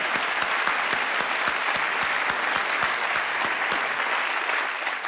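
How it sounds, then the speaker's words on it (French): Sustained applause from a theatre audience after a comedy show, dense and steady throughout with no talk over it. "On peut les applaudir très fort."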